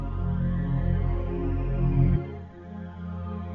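A beat made in FL Studio with stock plugins and automated phaser and flanger effects plays loud and dense, its sustained tones sweeping and shifting, then thinning after a sudden drop in the low end partway through.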